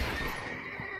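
A horse in Red Dead Redemption 2 lets out a single loud, close whinny over a brief burst of game noise.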